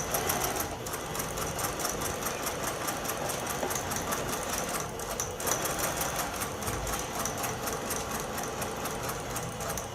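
A sewing machine stitches steadily across a quilt block to form a cross, its rapid needle rhythm running loud and continuous with a brief pause near the middle.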